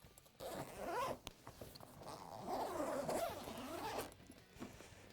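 Zipper pulled open along the main compartment of an Ogio Wheeled Rig T3 motocross gear bag, a close, steady ripping rasp in two long drawn strokes with a brief pause between.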